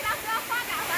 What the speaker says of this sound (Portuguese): Cachoeira, cachoeira, Caripinga